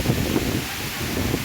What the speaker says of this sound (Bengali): আপনারা দেখতেই পাচ্ছেন কি পরিমাণে ঝড়ো হাওয়া বইতেছে